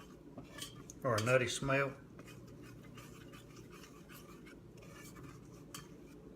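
A utensil stirs roux around a pan for smoked mac and cheese, making faint, continuous scraping and light clinks. A voice speaks briefly near the start.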